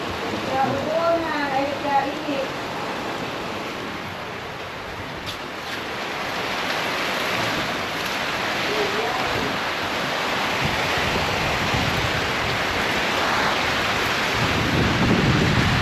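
Steady, dense rain pouring down with gusting wind roaring throughout, beside a tarpaulin shelter, a continuous broadband wash that swells slightly toward the end; a brief voice early on.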